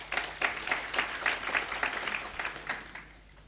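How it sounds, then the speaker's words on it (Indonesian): A church congregation claps in response to a preacher, with distinct, fairly loud bursts in an uneven rhythm that thin out toward the end. "Tepuk tangan untuk kebenaran ini."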